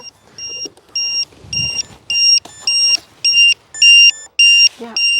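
A Vector flight controller in an RC BAE Hawk jet gives a string of about ten sharp, high electronic beeps in a regular rhythm, close and clear, with faint voices underneath.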